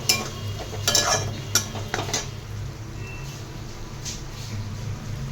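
Onion and tomato with masala are stirred in a hot pan, a spoon scraping and clinking against the metal in several close strokes over a steady low sizzle.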